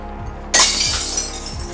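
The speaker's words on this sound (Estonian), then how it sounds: "kui kuuled klaasi klirinat" Glass bottles crash and clink into a glass recycling container, one sudden loud bright smash followed by a ringing, rattling tail of shards settling, heard up close against a low steady hum.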